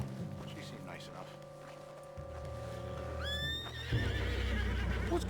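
A spooked horse in Red Dead Redemption 2 lets out a loud, rising whinny near the end, followed by hoof clatter, over a low droning background with a voice speaking.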